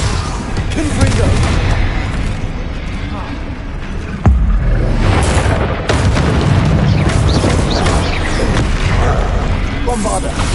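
Explosive spell blasts erupt in Hogwarts Legacy, with loud booming impacts and a sharp burst near the middle over a continuous rumble of combat effects, while a voice calls out in the background.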